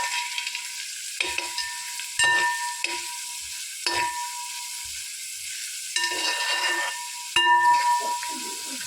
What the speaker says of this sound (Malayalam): നല്ല രീതിക്ക് ഒന്ന് ഇളക്കി കൊടുക്കാം.